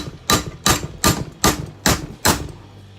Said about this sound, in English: you can just take a little baby sledge,